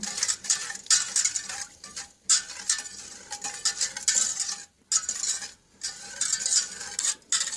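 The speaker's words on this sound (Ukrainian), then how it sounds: "200 г молока. Вимішуємо вінчиком." A whisk beats milk with sugar in a bowl, the wires clattering in quick rhythmic bursts with brief pauses, close and fairly quiet, with no voices.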